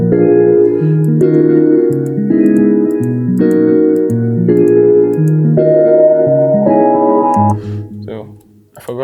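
Intro of a beat with drums and brass, stacked brass-like chords moving in repeating phrases over a steady groove, loud and full before it drops away near the end.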